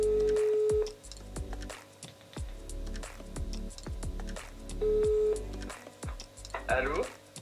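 A phone call being placed, with a steady electronic tone sounding twice, once at the start and again midway, under clicks, rustling and a voice talking nearby.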